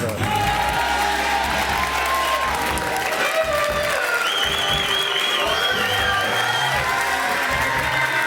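A television variety-show studio audience welcomes a guest onto the stage with sustained loud applause, mixed with cheering and whoops and some musical tones.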